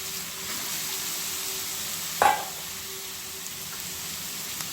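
Carrots sizzling in a hot pan, a steady close frying hiss with one brief louder stir or clatter partway through, no voices.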